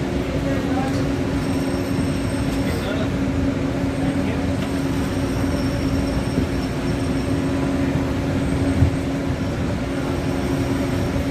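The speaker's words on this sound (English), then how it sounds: "enjoy the monorail. We're on our way to Downtown Disney Station." Disneyland monorail riding toward Downtown Disney Station, a steady loud interior rumble and hum with faint tonal whine throughout, recorded from onboard.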